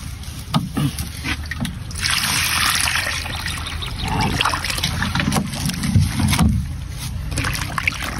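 Water sloshing and trickling as cow fat is rinsed by hand in a basin, a steady near wash of splashing and dribbling that continues throughout.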